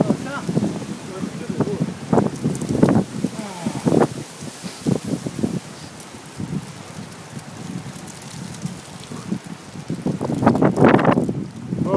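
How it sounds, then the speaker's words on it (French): Wind rushes across the microphone during an outdoor road cycling ride on a sunny morning, gusting and buffeting in uneven bursts, loud and close, with people talking over it. "Le vent nous pousse."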